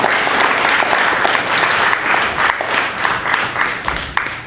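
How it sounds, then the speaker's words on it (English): Loud crowd applause for a support group at an outdoor peace walk against gun violence, a thick, continuous burst of clapping from many people that holds strong and then thins slightly toward the end. "they should all be recognized and given a big clap of applause for what they're doing"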